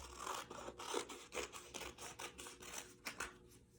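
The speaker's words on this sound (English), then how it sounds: "So let's go ahead and cut out" Scissors snip through paper to cut out wings for a paper airplane craft, a quiet series of short, crisp cutting strokes in an irregular rhythm, heard close and alone.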